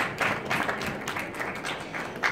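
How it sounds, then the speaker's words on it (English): Audience clapping at a conference presentation on Algeness filler, a short burst of scattered applause from a modest crowd in a room, moderately loud and steady. "Just do a quick clap, Tim."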